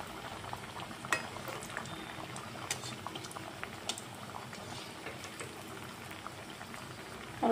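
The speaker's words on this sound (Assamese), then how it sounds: "আৰু গেছৰ ফ্লেমটো ল' টু মিডিয়ামত ৰাখি এইখিনি ভাজি ল'ম।" Khaja pastries fry in oil over a low-to-medium gas flame, a dense, even bubbling hiss with occasional light pops and faint utensil ticks, close and steady.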